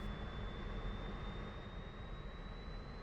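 A MiG-15bis jet engine in the DCS World flight game spools up, a continuous loud roar with a thin whine that rises slowly in pitch as the RPM increases, steady and unbroken.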